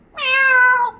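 African grey parrot imitating a cat's meow, a single loud, clear, drawn-out mew lasting under a second, close to the listener in a quiet room.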